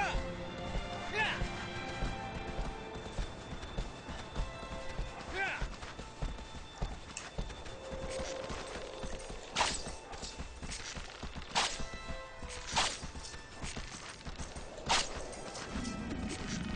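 A horse galloping in the video game Shadow of the Colossus: steady rhythmic hoofbeats thud throughout, with a voice talking over them.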